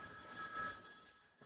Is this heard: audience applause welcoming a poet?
no